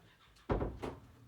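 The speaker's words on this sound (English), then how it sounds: "I'm also just going to close my door." A door is shut indoors with a single soft thud, followed by a quieter second knock as it settles in its frame.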